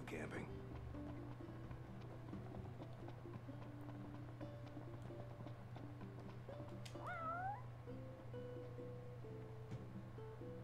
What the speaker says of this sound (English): Oh shit, the cat.